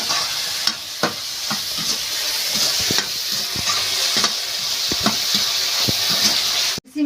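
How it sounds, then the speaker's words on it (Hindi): Chopped onions fry in a pan, giving a steady close sizzle broken by repeated sharp clicks of a spoon stirring against the metal. "हमारा प्याज भुजा रहा है।"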